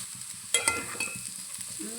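A spoon stirs bitter gourd and onion curry in a hot frying pan: a soft, quiet sizzle with a few light scraping clinks of utensil against metal, alone with no voices.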